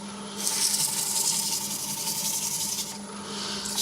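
Elm and walnut bowl wet-sanded with 240 grit, a steady rasping hiss of abrasive against wet wood over a low motor hum, pausing briefly near the end before resuming.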